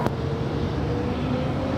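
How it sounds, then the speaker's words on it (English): A Lufthansa Boeing 747 airliner taxiing and turning toward the gates at LAX gives a steady, moderate jet engine rumble with a faint hum, heard from a distance without talk. "the Lufthansa Queen making that turn now, heading to the gates of Tom Bradley there on the south side"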